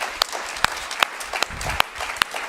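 Church congregation clapping, a scattered set of sharp separate claps at an uneven pace over a low murmur in the hall.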